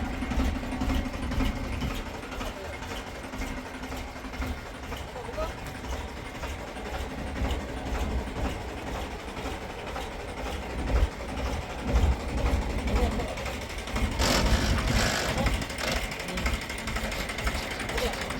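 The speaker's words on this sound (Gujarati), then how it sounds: "આ સ્પ્રે પંપ છે આપણો 200 મીટર પાઇપ અને 28 ફૂટની બૂમવાળો છે" A tractor-driven 500 litre pressure spray pump with a 28-foot boom and 200 m of pipe runs as a steady, close engine and pump drone throughout, swelling briefly louder near the end, with faint voices in the background.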